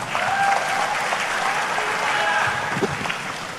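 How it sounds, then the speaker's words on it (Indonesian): Audience applause for Indonesia's finance minister at a speaking event, a dense, steady wash of clapping from a sizable crowd that holds at an even level throughout, with faint talk underneath. "Bapak, Ibu-Ibu, tepuk tangan buat Pak Menkyu."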